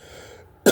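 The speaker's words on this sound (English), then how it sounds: "I'm sorry about my coughing." A short, sudden throat clear or cough from a man who has been using a vapor pen, loud and close, heard alone after a brief quiet stretch.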